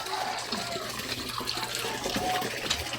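Water runs steadily from a tap outdoors, a continuous broadband splashing rush that holds at an even level throughout with no pauses.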